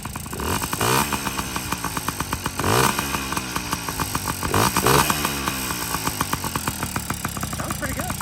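Yamaha PW50 two-stroke dirt bike with a freshly rebuilt top end, running on premix and idling loudly and close up, a buzzy steady drone with rapid pulsing and a few brief throttle blips.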